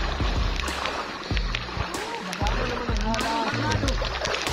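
People splash about in shallow seawater near the shore, with constant sloshing and repeated heavy splashes close by while voices talk and call out over the water.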